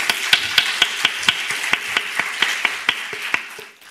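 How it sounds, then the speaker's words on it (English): Audience applause at a closing session of a Taiwan forum talk event, a steady spread of clapping with sharp individual claps standing out, moderately close, fading out at the end. "give all yourself a big round of applause"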